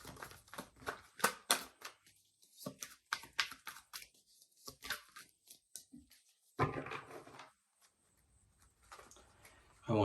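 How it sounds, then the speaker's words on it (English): Tarot cards being shuffled by hand, a run of quick papery riffles and taps coming in bursts with short pauses between them, recorded close and fairly quiet, with the occasional voice in the background. "I want to shuffle like this."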